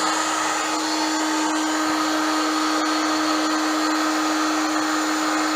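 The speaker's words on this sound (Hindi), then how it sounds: "इसे हमें ड्राई कर लेना है अच्छे से।" Handheld heat dryer or hair dryer blowing over freshly screen-printed ink on a T-shirt, a steady loud close whooshing drone with a constant motor whine, unbroken throughout.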